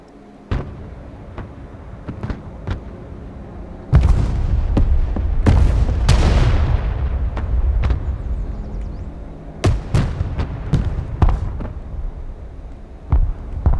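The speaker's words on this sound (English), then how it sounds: "Mobile artillery standing by. Direct fire on my mark." Mobile artillery in Broken Arrow fires a series of sharp, loud booms, irregularly spaced, with a heavy cluster of blasts and rumbling echoes in the middle and more scattered reports toward the end.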